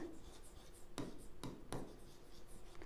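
Chalk or marker writing on a board during a maths lesson makes a few quick, faint scratching strokes and taps in a quiet room.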